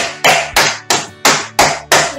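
Pork chops sealed in a plastic bag are pounded flat with a small pot, six loud, evenly spaced thuds striking in a steady rhythm, close up and alone.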